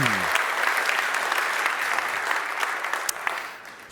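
Applause from a conference audience after a talk: a dense, steady clapping of many hands that holds at full strength and then thins slightly near the end.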